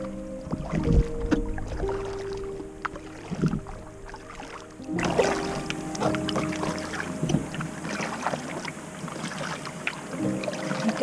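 Steady canoe paddling on an Algonquin Park lake in stormy weather, with rhythmic paddle strokes and water swishes over constant wind noise, close to the microphone and with no voices.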